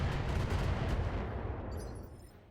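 Weapons fire from mechs in the BattleTech video game, a dense low rumble of blasts at the start that slowly fades into a quieter, distant tail.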